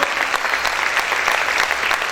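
A church congregation at a Spanish-language worship service claps loudly and continuously, many hands close by in a thick, even burst that never lets up.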